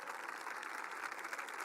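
Dense audience applause at a political rally in Chinchón, Madrid, with many hands clapping evenly and continuously throughout the short stretch, loud and close with no voice on top.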